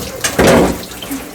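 A short splash of running tap water for bathing a Golden Retriever, close and loud, lasting well under a second amid a steady watery background.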